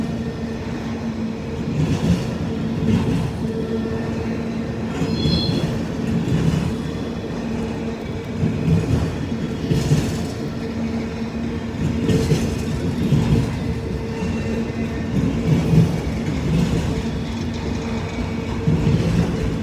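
A long, loaded autorack freight train rolls steadily past nearby on a wet day, a continuous rumble with rhythmic clickety-clack from the wheels and faint squeals throughout.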